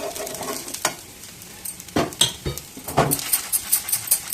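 Dough for a dry-fruit dibba rotti cooks in a pan on a stove, with a steady sizzle under repeated scraping stirs and clinks of a utensil against the pan, growing more rhythmic toward the end.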